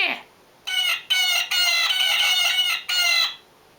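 A person imitates a blue jay's harsh scolding call: a series of loud, buzzy, nasal bursts repeated in quick succession, close to the microphone.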